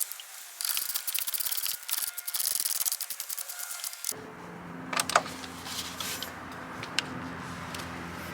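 A bolt is put back into the battery bracket of a Skoda, Audi or VW car, heard as close scraping and ratcheting rubs for a few seconds, followed by quieter metallic clicks and taps.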